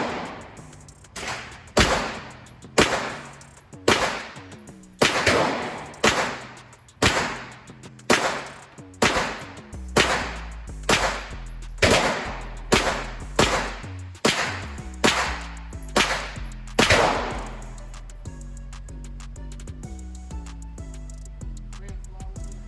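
Taurus G3 TORO Tactical pistol firing regular Winchester ammunition at a range, about twenty loud sharp shots in an uneven steady string that end in quiet, with no talk.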